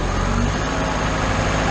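Schwing BPA450 concrete pump engine held at high RPM on a jobsite, a dense, steady low diesel drone with a constant hum and no breaks, heard briefly and up close.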